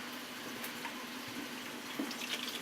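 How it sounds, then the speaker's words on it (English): Cold water runs steadily from a kitchen sink tap during tomato canning, a faint even hiss and splash with a few small clinks and knocks, and no voices. "Here, we'll just run the cold water."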